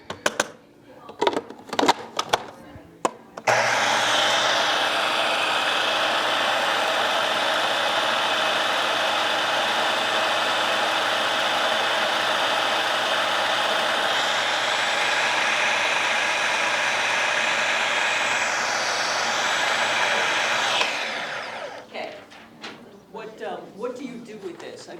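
A Vitamix blender runs for about seventeen seconds as a loud, steady motor whir at close range, after a few clicks and knocks. It stops with a brief winding down.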